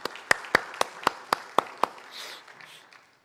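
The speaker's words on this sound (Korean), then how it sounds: "격려의 박수 한번 보내주시기 바랍니다" A church congregation claps in encouragement during a Sunday service: about seven sharp, evenly spaced claps ring out clearly in a quiet hall, then trail off into faint room noise.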